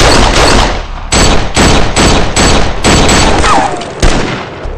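Sustained gunfire in a comedy film scene: loud, close bursts of rapid shots come in a rhythmic series of cracks with brief gaps between volleys, dense and continuous across the whole stretch.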